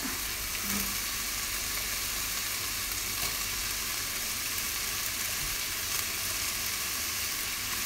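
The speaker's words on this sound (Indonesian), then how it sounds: "Biar enak, sosisnya ditumis juga" Sausage pieces sautéing in a pan for meatball soup give off a quiet, continuous hiss and crackle of hot oil, steady throughout with no voices.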